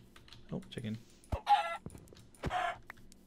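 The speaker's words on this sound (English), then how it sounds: "Oh, chicken." Minecraft chicken clucking in a few short bursts amid game sounds and keyboard typing, fairly close and moderately loud, with a voice speaking briefly.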